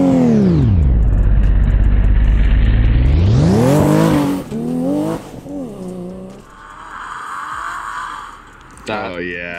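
A Nissan Skyline GT-R roars loudly up close, its engine revving and rising in pitch through a corner as the tail kicks out, then easing off into quieter, uneven engine noise with tire sounds and a final burst of revving.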